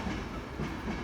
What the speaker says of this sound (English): Pretty old train.